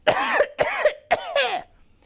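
Four short throaty bursts in quick succession, close and voiced, sounding like a person imitating coughs in an exaggerated storytelling way.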